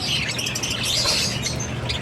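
A pet violet greywing budgerigar chirps in a steady, close stream of bright twittering and short squawks, with no talk over it.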